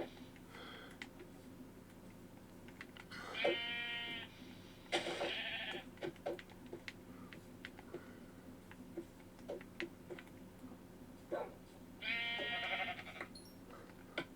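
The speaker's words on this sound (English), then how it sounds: "there's the sheep." Sheep in Minecraft on the Xbox 360 edition, giving several short, faint bleats spread apart over a quiet, low-level hum, with no speech.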